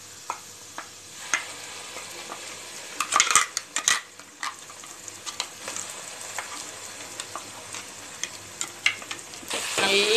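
Ground spice paste frying with onions in a pan on a low flame for pepper kuzhambu, a continuous sizzle with frequent scraping strokes and metallic clinks of a spoon against the pan.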